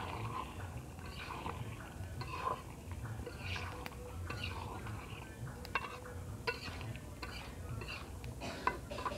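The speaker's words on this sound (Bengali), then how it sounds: "এবার আলু দিয়ে দেব, দিয়ে ভালো করে একটু নেড়ে নেব" Potatoes are stirred into meat in a cooking pot, giving a soft continuous scraping and shuffling with scattered faint utensil clinks against the pot, fairly quiet and steady.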